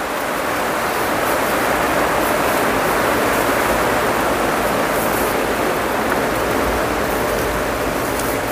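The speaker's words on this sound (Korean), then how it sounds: "오늘도 비가 억수로옵니다" Heavy rain pours outside in a dense, unbroken hiss that stays loud and steady, with no pauses and no voices.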